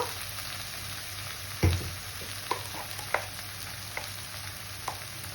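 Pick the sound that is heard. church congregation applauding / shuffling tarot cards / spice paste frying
spice paste frying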